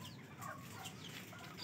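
Bruce Gray Hatch rooster, a medium-sized young gamefowl, clucking softly and steadily over a low, faint background, with no talk.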